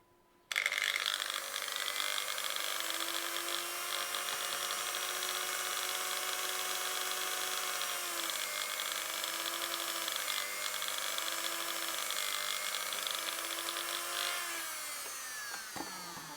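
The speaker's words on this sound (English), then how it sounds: "So I'm about to turn on the Dremel now" A Dremel rotary tool makes rivet divots in foam for a cosplay bolt pistol build. A loud, high, steady whine starts abruptly, holds for about fourteen seconds with slight dips in pitch under load, then winds down.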